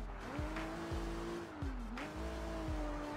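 Car driven in the game Sleeping Dogs, its engine humming while tires squeal in sharp rising and falling bursts, with a few thumps and skids, fairly loud and with no one talking.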